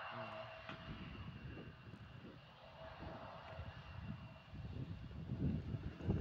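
An Embraer 175 jet airliner landing at Sofia Airport, heard as a steady distant engine roar that swells slightly toward the end, with a low outdoor background.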